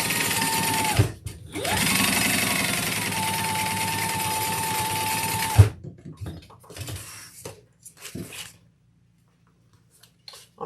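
A domestic sewing machine stitching up and down a pen pocket, running steadily for several seconds with a brief pause, then stopping with a clunk, followed by scattered handling clicks and rustles.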